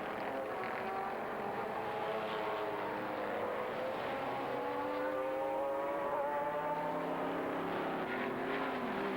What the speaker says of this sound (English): Into the pits, the number 9 car of Peter Cox and Roberto Ravalia